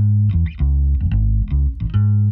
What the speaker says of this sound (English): I just activated this red light district, which is a stock distortion sound or stock distortion plugin within Studio One here.